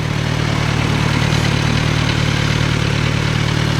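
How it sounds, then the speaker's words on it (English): A Kawasaki Versys 1100 SE motorcycle idles close by, its engine holding a loud, steady low rumble with no revving and no voices. "so that's my Kawasaki Versys 1100 SE"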